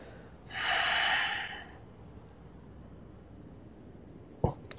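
One long, steady exhale is heard close by during a stretching exercise for back pain, followed by quiet and then a brief sharp sniff near the end.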